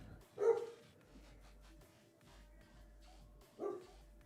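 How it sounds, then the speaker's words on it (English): Guard dogs near a house let out two separate barks about three seconds apart, moderately distant, with quiet background between them and no talking. "guard dogs are at it again"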